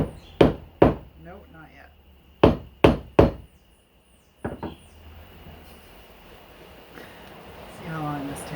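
A whole coconut struck with a hammer to crack it open: about eight sharp, hard knocks in uneven pairs and clusters, close and loud, with people talking between the blows.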